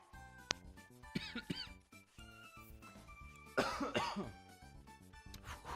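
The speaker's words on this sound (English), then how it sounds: "My cough is getting worse." Several sharp coughs break out in a Zelda video game amid a busy, noisy background, with a short burst of rougher coughing partway through.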